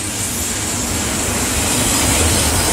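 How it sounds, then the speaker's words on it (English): A Southern Pacific freight train loaded with auto racks rolls past close by, a loud, unbroken roar of rumbling wheels and cars. "Yep, this train's loaded."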